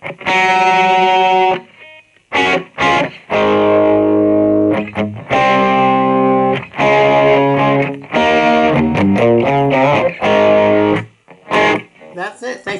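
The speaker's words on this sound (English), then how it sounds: "What makes this tone come to life will be the delay reverb that we add to the flanger" Electric guitar run through flanger, delay and reverb on a Boss eBand JS-10, chasing an 80s tone; loud, sustained distorted chords and phrases ring out in bursts with short gaps, no voice over them.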